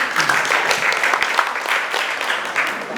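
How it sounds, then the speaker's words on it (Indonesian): Audience applause at a village cooperative meeting in Bali, steady dense clapping from a seated crowd that holds at a constant level throughout, with no voices clearly standing out. "Tepuk tangan dulu."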